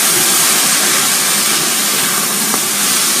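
Sauerkraut and franks steam and simmer in a pan on a lowered flame, giving a steady, close hiss with no breaks and no talking.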